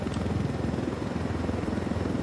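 Helicopter flying in the video game Ghost Recon Wildlands, a loud continuous rotor chop and engine drone filling the whole stretch without pause.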